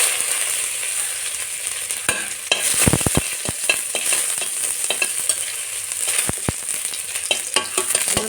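Nigella seeds and chopped ginger temper in a little hot oil in a wok, a close, steady sizzle broken by sharp scraping clicks of stirring clustered in the middle and toward the end, with no voices.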